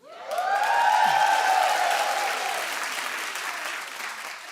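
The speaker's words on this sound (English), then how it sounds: "Please don't clap after everything." A studio audience at a talk show claps loudly and steadily for several seconds, with a rising whoop or cheer near the start before the applause slowly tapers off.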